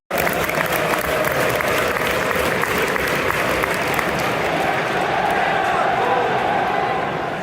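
Football stadium crowd at a Liverpool versus Sheffield match, a broad continuous roar with scattered clapping and chanting filling the whole stretch at steady volume, no distinct nearby voice.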